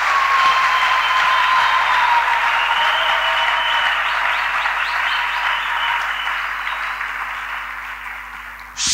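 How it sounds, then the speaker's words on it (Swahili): A church congregation at a New Year's Eve service claps together in a loud, sustained burst of applause that fades slightly toward the end. "Tumchapie Bwana makofi"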